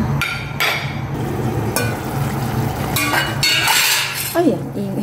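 A metal casserole pot lid clinks and rattles against its pot in a home kitchen while pork adobo with tofu cooks, sharp clanks arriving in short bursts over a steady background hiss.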